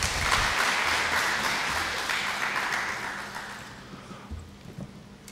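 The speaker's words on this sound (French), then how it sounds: "Vos applaudissements, s'il vous plaît." An audience at a university prize-giving ceremony applauds in a steady, dense wash of clapping that slowly fades toward the end.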